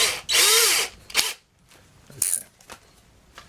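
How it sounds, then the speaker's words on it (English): An electric drill driving a ball joint remover jig whirs in a short burst, winds down, then gives a couple of brief spins amid clicks and handling noises. "Put it in my drill."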